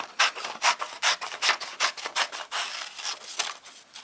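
Scissors cut out paper for a poem craft, making a series of close, rhythmic rasping snips, one after another, with no talk.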